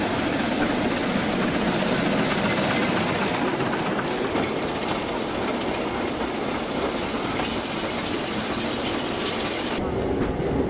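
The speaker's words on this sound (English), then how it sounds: "This is a rack railway operated by antique steam and diesel locomotives." A rack railway train hauled by an antique locomotive rumbles steadily along the track, a continuous loud clatter of wheels and machinery with no pauses, close by throughout.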